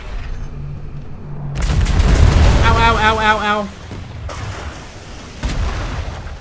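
Heavy cannon booms go off in the pirate game Atlas, several separate blasts spaced a second or two apart, while a voice cries out repeatedly over the shots.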